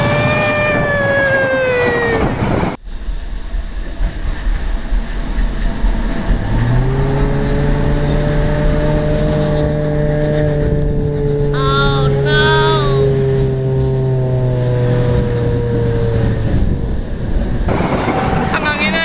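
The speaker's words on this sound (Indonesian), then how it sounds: "Keretanya datang Sen." A train rumbles in close and loud, with long sustained tonal whines from its wheels or motors and a brief high squeal partway through. Wind buffets throughout.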